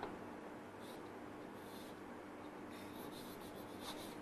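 Marker or chalk writing on a classroom board, a steady soft scratching stroke with short bursts, close and continuous with no talk.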